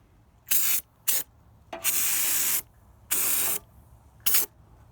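Rust touch-up coating sprayed from an aerosol can onto the rusty rear frame and axle of a Jeep Comanche, in five loud hissing bursts of varying length separated by short pauses.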